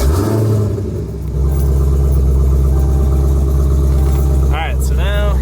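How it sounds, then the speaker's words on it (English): A Dodge Challenger Hellcat with about 800 horsepower starts and settles into a deep, loud, steady idle that rumbles close by, while people talk over it. "start the car"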